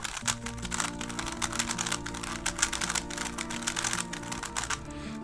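Rapid, dense plastic clicking and clacking from a QiYi MP 3x3 speed cube being twisted quickly and continuously, close up, with no talking.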